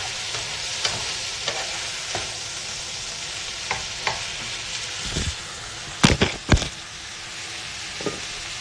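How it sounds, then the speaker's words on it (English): A hot pan deglazed with cooking wine hisses in a steady, loud sizzle, with scattered crackles and a cluster of sharp pops and scrapes near the end, close up and without talk. "All right, so I'm just gonna deglaze the pan with this."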